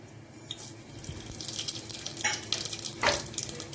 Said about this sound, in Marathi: खडे मसाला फ्राय करून घ्यायचे।